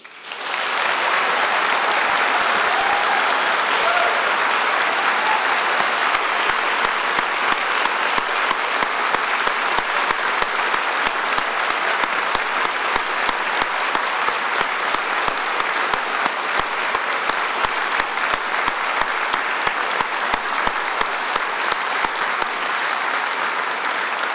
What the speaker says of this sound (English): giving all of our amazing graduates a huge round of applause